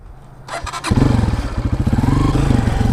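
A dirt bike engine runs loud and close on a riding track, starting with a sharp clatter and then settling into a steady, throbbing mid-pitched drone that pulses rhythmically.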